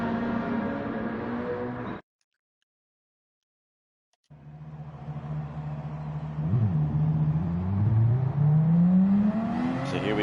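A Porsche 911 RSR GT3 race car pulls out of the pit lane in a racing game, its engine droning then rising in pitch through the gears after a brief silent gap, growing louder as it accelerates.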